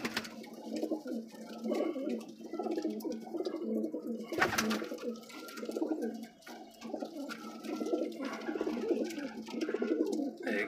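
Golden flying pigeons coo nearby in repeated soft, throaty rolling phrases, with faint background noise and no speech.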